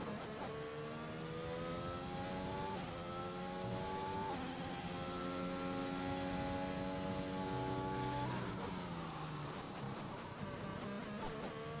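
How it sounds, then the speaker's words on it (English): An F1 race car in a racing video game at Bahrain runs on intermediate tyres down a DRS straight. The engine note climbs steadily through several upshifts, loud and close, with no talk. "That's Mick out on the intermediate tyres on the 2 DRS straight."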